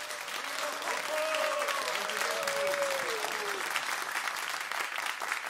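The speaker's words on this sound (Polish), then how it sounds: "Oklaski pełne przedświątecznego entuzjazmu" A studio audience at a Polish Radio jazz concert in Warsaw's Studio S3 claps in sustained, dense applause, steady and fairly close, with a faint voice or tone drifting underneath.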